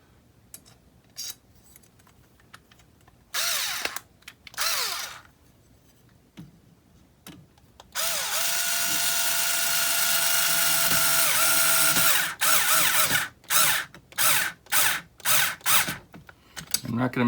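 A power drill drives screws to mount ECTO rock sliders, snugged just enough to hold them in place. Short close whirring bursts come first, then one long sustained run, then a quick series of brief pulses, with no talking.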